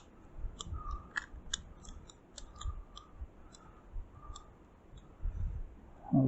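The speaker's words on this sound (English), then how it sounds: "snip off a little more." Scissors snip a dawn redwood bonsai during repotting and spring clean-up, giving a series of sharp, close, quiet clicks at an irregular pace with soft handling noise between cuts.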